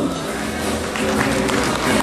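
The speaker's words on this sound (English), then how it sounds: "A big round of applause." Applause and crowd noise at a wedding reception in a Manila hotel, greeting the flower girls; a steady wash of clapping from a roomful of guests lasting the whole moment, fairly loud and even, with no speech over it.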